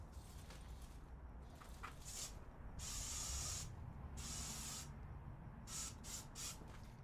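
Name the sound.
spray can spraying at a rat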